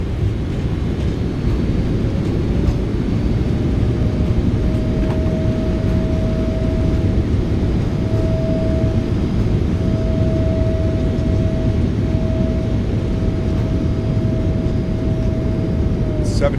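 Boeing 777F reverse thrust during landing in the PMDG flight simulator: a loud, unbroken roar of engine noise with a thin steady whine riding on top, sustained for the whole stretch without any voices.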